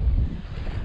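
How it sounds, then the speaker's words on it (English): Strong wind buffets the microphone in a low, rumbling roar that fills the short moment, with no voices, while fishing outdoors in Mayo, Ireland. "Oh, it's getting real windy."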